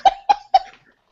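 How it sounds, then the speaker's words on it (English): Three sharp coughs in quick succession, close and loud, then silence. "a cough"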